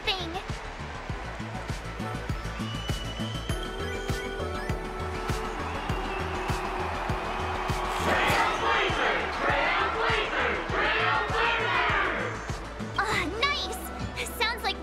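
Crowd of fans cheering and shouting in a fantasy battle video game, a loud swelling roar building midway and holding for several seconds over music and game effects, with voices talking through it.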